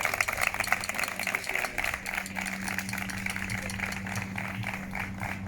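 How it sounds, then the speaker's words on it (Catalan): An audience applauds steadily at an outdoor civic ceremony in Picanya, a dense, even patter of many hands held at moderate volume for several seconds, with a low engine-like hum underneath. "demano un fort aplaudiment per a ells"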